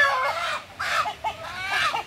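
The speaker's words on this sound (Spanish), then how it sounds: "Miren el gallo cómo defiende su gallina." A rooster defending its hen gives agitated, throaty clucks in three short bursts, close and fairly loud, with no one talking.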